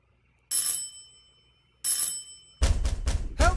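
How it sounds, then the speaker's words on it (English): An electronic doorbell rings twice in Silent Hill 4, two bright chiming bursts about a second apart, followed by loud muffled banging and thumping. "Is that my doorbell?"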